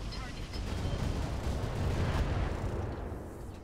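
Weapons fire in the mech combat game Roguetech, heard as a dense, continuous rumbling barrage of booming blasts that stays loud and steady throughout.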